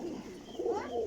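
High-flying pigeons at a loft coo softly, a couple of low, wavering calls rising in pitch, faint and close.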